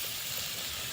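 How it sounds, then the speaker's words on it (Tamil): Fish frying in hot oil gives off a steady, even hiss and sizzle with no break, close and moderately loud, and no voices present. "எண்ணெய் ஊற்றிட்டுமா பொரியட்டும். பொரியட்டும் நல்லா"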